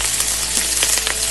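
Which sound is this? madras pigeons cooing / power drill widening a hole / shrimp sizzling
shrimp sizzling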